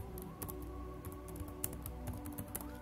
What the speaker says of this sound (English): So I'm just going to type here my to-do